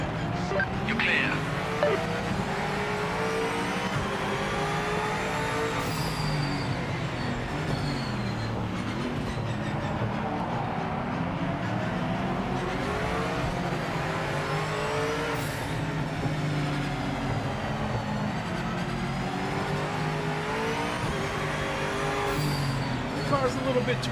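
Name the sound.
BMW M8 race car engine in Project Motor Racing video game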